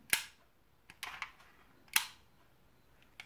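Three sharp plastic-and-metal clicks from a WE Walther P38 airsoft pistol, a Classic Pistol replica, as its slide opens, spaced roughly a second apart, close and dry, with a faint fourth tick at the end and no talking.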